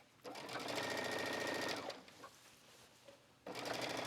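A sewing machine runs fast and close while top stitching a denim shirt dress, humming in two steady bursts separated by a brief quiet pause with faint handling noise.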